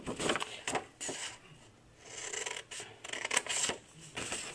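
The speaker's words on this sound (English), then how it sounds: "And then I used my scissors to cut up to the line." Scissors snip paper for an apple basket craft, several short crisp cuts in irregular bursts with brief pauses, close and fairly quiet, with no talking.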